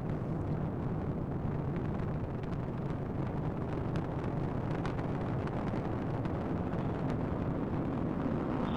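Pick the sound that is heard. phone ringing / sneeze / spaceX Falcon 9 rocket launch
spaceX Falcon 9 rocket launch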